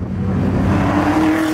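A supercharged V8 in a Chevrolet Camaro ZL1 1LE track car roars loudly at close range, its pitch climbing steadily under acceleration in one brief sustained pull, with no voices.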